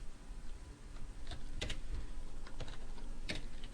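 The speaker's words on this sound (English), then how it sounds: "let's just type the square root of" Keys clatter on a computer keyboard while someone writes C++ code. The keystrokes come in uneven clusters over a steady background hum, close and moderately loud, with no voices.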